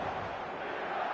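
A steady, dense roar from a packed San Siro crowd in the eFootball game, loud and continuous with no break.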